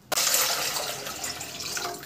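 Water pours steadily into a cooking pan for suji halwa, a close, continuous splashing gush that starts abruptly and keeps running with no talking.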